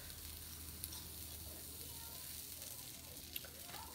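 Oil sizzles steadily on an IKICH electric griddle, a faint, even hiss that holds throughout with a couple of brief clicks and no voices.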